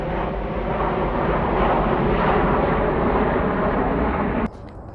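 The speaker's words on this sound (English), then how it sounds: "We got two big planes coming overhead." Two large airplanes pass overhead above an abandoned railroad line near a pond, giving a loud, steady engine roar for several seconds before it cuts away abruptly near the end.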